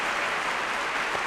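A short, steady burst of applause for winners plays as a dense, even hiss of clapping throughout.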